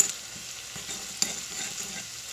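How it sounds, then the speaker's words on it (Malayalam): Ginger frying in a pan for inji pachadi, a close steady sizzle with soft stirring scrapes and one sharper knock midway, no voices. "നമുക്ക് നമ്മുടെ ഇഞ്ചി ഒന്ന് നന്നായിട്ട് വറുത്തെടുക്കാം."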